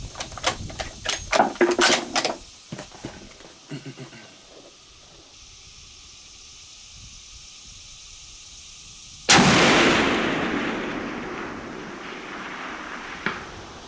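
A Christensen Arms .338 Lapua rifle fires at a target 1000 yards away: one sharp, loud report followed by a long hissing decay, after a few scattered knocks and faint sounds, with no talking.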